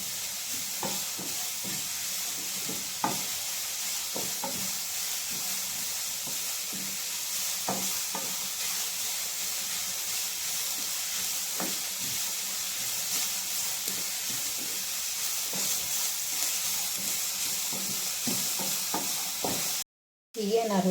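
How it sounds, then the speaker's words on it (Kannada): Cabbage is stirred in a hot frying pan as filling for steamed veg momos: a steady close sizzle and hiss with scattered spoon scrapes and taps, briefly cutting out near the end, with no talking. "ಹಾಗೆ ಕ್ಯಾಬೇಜ್ ಸಮ ಹಾಕ್ಕೊತಿದ್ದೀನಿ. ಚೆನ್ನಾಗಿ ಮಿಕ್ಸ್ ಮಾಡ್ಕೊಳ್ಳಿ."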